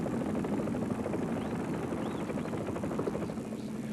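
Helicopter camera ship hovering over a NASCAR stock car race at the 1997 Southern 500, a steady, continuous rotor and engine drone mixed with broad race-track noise, fairly loud and unbroken throughout.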